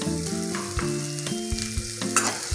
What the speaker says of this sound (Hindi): सभी मसाले को अच्छे से रोस्ट कर लूंगी